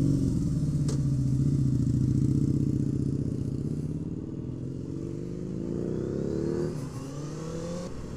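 Motorcycle engines droning loud and close while riding on a desert highway loop, a steady mid-pitched roar that shifts through gear changes and rises and falls with throttle, with no voices.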